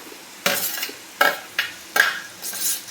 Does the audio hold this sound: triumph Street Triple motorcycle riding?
no